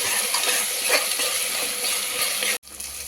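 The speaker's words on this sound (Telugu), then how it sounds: "ఇలా అల్లం వెల్లుల్లి పేస్ట్ ఫ్రై చేసుకున్నాక" Ginger garlic paste frying in a pan for tomato rice, a steady bright sizzle with faint stirring scrapes, cut off abruptly near the end as the heat drops to a quieter hiss.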